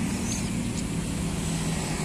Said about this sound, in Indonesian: Pokoknya kalau pengen kalian suaranya bulat ngebas itu yang tipe oval